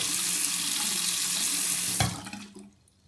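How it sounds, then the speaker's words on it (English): A sink tap runs steadily as water streams over a makeup brush, a dense close rush that cuts off after about two seconds, leaving a short dripping tail and quiet. "You just want to take your brush and run it under the sink."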